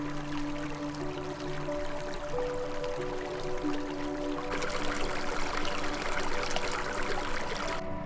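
Fresh glacial meltwater in a mountain stream in Banff National Park, a continuous rushing, trickling wash of water that grows fuller and louder partway through, with no talk.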